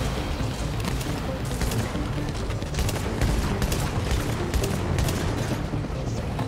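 Pistol fire in an extraction shooter video game, a dense, continuous barrage of loud shots and impacts.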